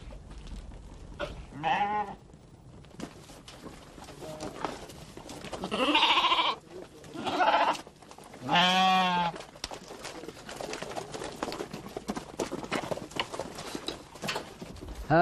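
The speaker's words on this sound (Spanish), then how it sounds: "conoce a sus varias docenas de cabras por su temperamento" A herd of several dozen goats bleats in repeated wavering calls, some loud and close, others fainter, with gaps of scattered rustling and shuffling between the cries.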